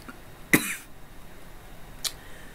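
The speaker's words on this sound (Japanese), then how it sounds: "いや変な咳の仕方、" A person gives an odd, exaggerated cough, one sharp close burst followed about a second and a half later by a shorter, fainter cough in a quiet room.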